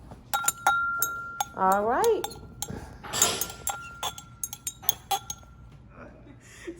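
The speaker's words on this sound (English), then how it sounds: "I'll give this one final swirl just to make sure I got all my stuff off the side of the glass" Glass clinks sharply several times as liquid is swirled in lab glassware during a copper cycle chemistry lab, with a person talking over the bright, close taps.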